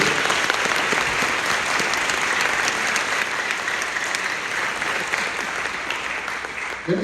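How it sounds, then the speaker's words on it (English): Steady, sustained applause from a concert audience at a middle school honor band performance in a high school facility, a dense even wash of clapping heard from within the hall with no talking over it. "Can we give them a round of applause?"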